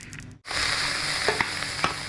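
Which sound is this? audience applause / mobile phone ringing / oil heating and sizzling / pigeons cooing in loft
oil heating and sizzling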